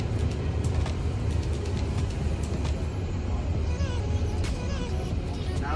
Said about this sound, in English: Now we are driving